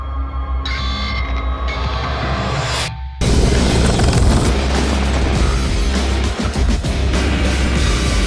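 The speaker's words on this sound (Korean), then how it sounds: "공격 헬기 영상이 많이 나오는데." Rotor thump and engine roar of a Russian attack helicopter sound loud and close, with booms that may be weapons fire. After a brief lull it becomes a dense, continuous roar, and nobody speaks.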